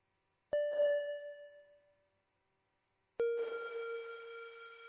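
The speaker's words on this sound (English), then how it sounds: "clearly that is the Oliverb, the built-in reverb in the Parasites firmware" Two bright, bell-like synth tones from a Eurorack module run through the Oliverb reverb of the Parasites firmware, each struck sharply and then ringing into a shimmering reverb tail, the second louder and longer.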